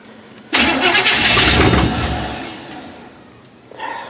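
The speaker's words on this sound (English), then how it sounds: "I just want to get it to where it'll try to idle." A 1979 Chevy K20 truck engine cranks and catches abruptly, roaring loudly for a couple of seconds before sagging and fading toward an uneven idle, then a brief surge near the end.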